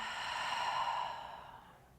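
Slow, soft breath exhaled through the nose and mouth during a Pilates stretch, a single airy sigh that fades gradually over two seconds in a quiet room.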